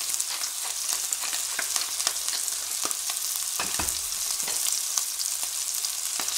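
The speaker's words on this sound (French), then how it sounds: "On fait revenir de tous les côtés" Rabbit legs sear in a hot pan, a steady close sizzle and crackle of frying meat with occasional light scrapes and taps as the pieces are turned.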